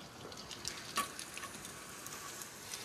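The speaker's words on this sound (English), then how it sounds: "Shallots into the pan." Finely chopped shallots go into a pan with olive oil and butter and fry with a soft, steady sizzle, broken by a single small clink near the start.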